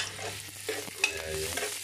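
Onion sautéing in a pan for Filipino bopis, a soft, steady close sizzle with a couple of light clinks and stirring scrapes over a low background hum, no voices.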